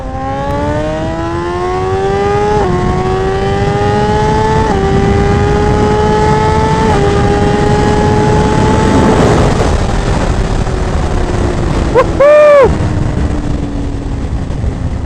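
A 2022 Suzuki GSX-R1000 motorcycle accelerates hard through the gears, its engine note climbing steadily in pitch and dropping slightly at each of several upshifts, loud and close with wind roar throughout, ending with a brief sharp rising whine.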